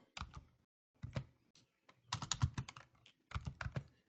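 Several short bursts of clicky typing on a computer keyboard come in quick rhythmic clusters separated by brief pauses, close and clear with no talking.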